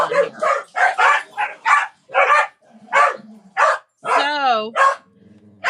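Dogs bark at someone walking past a front door, a rapid run of loud, close yips and barks with a whining, whimpering bark near the end, mixed with a voice speaking.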